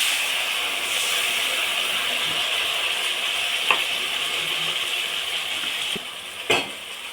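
Fish frying in hot oil in a home kitchen, with cumin, coriander, tomato, green chilli, garlic and ginger added to the pan: a steady, loud sizzle throughout, marked by a few brief clinks or stirring knocks near the end.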